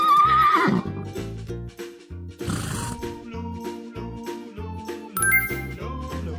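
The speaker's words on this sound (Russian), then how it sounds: "Лошадь." A cartoon horse's whinny rises over a bouncy children's music backing with chimes, the neigh loud and near near the start before the jingly tune carries on.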